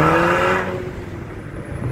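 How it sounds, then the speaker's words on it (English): A 2016 Mercedes with a turbocharged four-cylinder engine accelerates hard, its loud engine note at first close, then dropping and fading as the car pulls away, with no voices. "Nothing like a turbo four."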